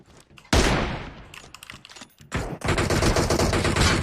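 M4 rifle fire in a mobile battle-royale shooter, sounding as loud, sustained automatic bursts with a brief gap and then another long rattling burst, with no voices.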